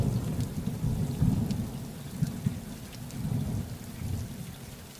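Thunderstorm outside a bivvy shelter on the Pennine Way: low rolling thunder rumbles continuously with heavy rain pattering on the fabric close overhead, steady throughout.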